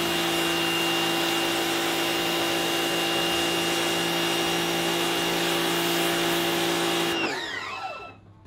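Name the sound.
pressure washer spraying with white nozzle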